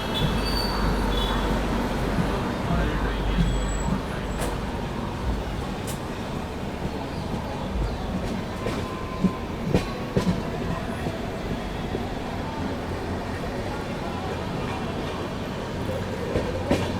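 A train hauled by a Vadodara shed WAP-7 electric locomotive rolls into Vadodara Junction, a continuous low rumble of wheels with scattered clicks and squeals over rail joints, steady and moderately near.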